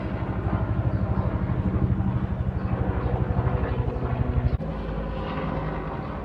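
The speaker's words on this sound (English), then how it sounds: "That was 2 helicopters." Heavy rotor thudding of two helicopters taking off and passing close overhead, a loud rhythmic chop that holds steady, then drops off sharply near the end.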